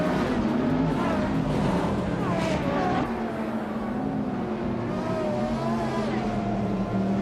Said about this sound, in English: Leading the pack is Chosen's Coast in a classic 2005 Radical SR8